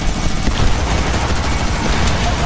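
Dense, sustained volley of gunfire from Fortnite, a continuous roar of overlapping shots filling the whole stretch without pause.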